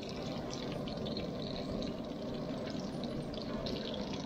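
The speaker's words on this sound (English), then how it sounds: "I'm just going to keep ladling this on until the bubbles come through the cracks on the top side" Hot oil ladled over a pan-fried yellowtail snapper in a pan, a soft continuous sizzle with faint liquid trickling, low and steady with no talk.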